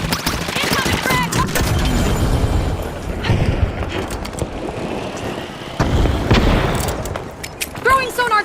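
Frag grenade blast and gunfire in The Finals, a loud busy mix of booms, bursts of shots and effects running throughout, with game voice lines and talk over the action.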